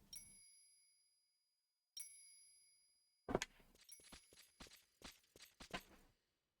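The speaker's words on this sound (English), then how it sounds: "A bell, indeed." Bright, clear chimes ring out in Final Fantasy XI, two sustained dings a couple of seconds apart, followed by a quick run of clanks and knocking sounds.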